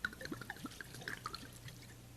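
Red wine poured from a bottle into a cooking pot in a kitchen, giving soft irregular glugs and drips at low volume with no talk over it.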